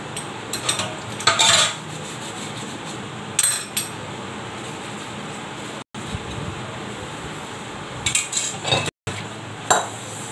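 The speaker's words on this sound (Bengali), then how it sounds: "এবার বাসনটা ধোবো আর মাছটা ধোবো আগে" Dishes, utensils and a metal frying pan clatter and clink in a home kitchen while being washed, coming in short bursts separated by quieter stretches, close by and with no talking.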